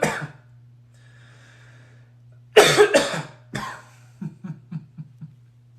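Several coughs in quick succession from one nearby person, a sharp burst followed by a string of smaller, fading hacks over a low steady hum, with no talking.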